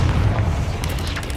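A Confringo spell explosion in the video game Hogwarts Legacy, a loud, deep rumbling boom that fills the whole brief moment with sustained low-end roar and crackle.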